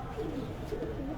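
Soft, low pigeon cooing from a seven-year-old pigeon repeats in a short rolling phrase, fairly close, with a faint background hum and no talking.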